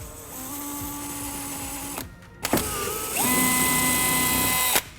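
Close power drill boring a hole in a 2011-2018 Dodge Ram during a Mopar splash guard install: a whining two-second burst, a short pause, then a longer burst whose pitch climbs and holds before stopping abruptly.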